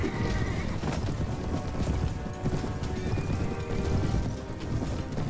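Cavalry horses thunder past in a medieval-style video game battle, a loud, dense rumble of galloping hooves with a neigh rising over the clatter.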